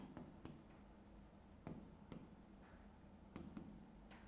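Chalk or marker strokes on a classroom board during a maths lesson, a series of quiet scratchy taps and short scrapes in an irregular rhythm, close and faint with no talking.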